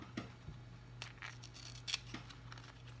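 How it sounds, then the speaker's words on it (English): Scissors snip through stiff ribbon during a pine cone angel craft project: a few quiet, close cuts spread over a faint, steady background hum. "Now I'm going to cut this off"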